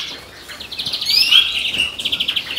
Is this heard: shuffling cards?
no